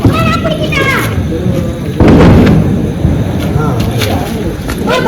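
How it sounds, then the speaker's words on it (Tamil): Diwali firecrackers go off among excited children's voices and chatter. One loud, sharp burst stands out midway through a noisy, busy outdoor scene. "சரி வாங்க வெடி வெடிக்கலாம்."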